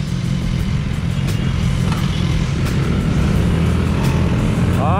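A Honda Beat Street scooter engine hums continuously while riding, a low steady drone with wind rush and road noise throughout, no talking.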